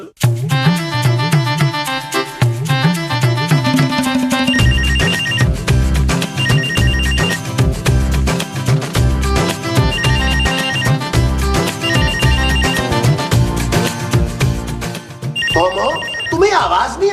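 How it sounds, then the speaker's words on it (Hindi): A telephone ringtone plays a repeating melodic electronic tune over a beat, loud and continuous for most of the clip, in a household comedy setting, with a brief change near the end. "अरे फोन की आवाज नहीं आ रही?"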